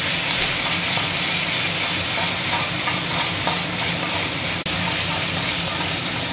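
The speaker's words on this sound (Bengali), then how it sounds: "এদিকে মাংসের মশলা কষানো হচ্ছে, পেঁয়াজ, আদা, রসুন, লঙ্কা সব একসঙ্গে দিয়ে দিয়েছি" Meat masala with onion, ginger, garlic and chili sautéing in a pan gives a steady, close sizzle and hiss with occasional stirring scrapes, loud and continuous throughout with no talk.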